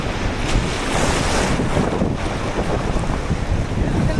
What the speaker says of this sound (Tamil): ஆனா சும்மா அலையா இருக்கு சுப்பு